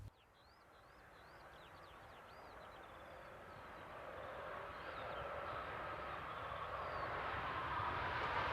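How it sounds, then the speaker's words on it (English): Near Gundelsheim, a southbound passenger train hauled by electric locomotive 111107 approaches from a distance, its rolling rumble and hiss growing steadily louder without any talk. "Near Gundelsheim Adaltmühl, we see 111107 heading south with a service for Treuchlingen."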